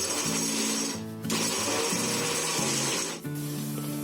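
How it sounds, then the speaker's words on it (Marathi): Peanuts, garlic and chilli being coarsely crushed without water into a thick thecha, heard as a loud, steady mechanical grinding whir that cuts out briefly twice. "हे शेंगदाणे, लसूण आणि मिरची याचा आपल्याला ठेचा करून घ्यायचा आहे"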